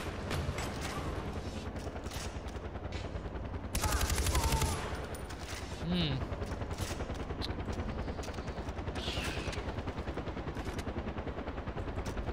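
Rapid automatic gunfire from the video game Far Cry 4 rattles steadily throughout, with a louder blast around the middle and occasional voices under the shooting.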